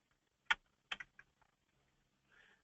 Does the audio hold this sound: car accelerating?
no